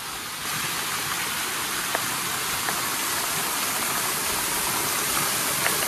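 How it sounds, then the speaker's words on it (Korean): A large waterfall near the Mungyeong Saejae gate on Juheulsan gives a steady, broad rushing roar of falling water that stays even and loud throughout, with no voices. "지금 이관문을 지나치자마자 바로 보이는 이제 폭포고 굉장히 큽니다"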